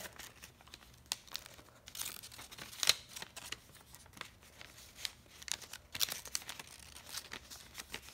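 Paper folded and creased into an origami Santa hat, with close, irregular crinkles and sharp crisp snaps scattered throughout, some louder rustles standing out against a quiet background.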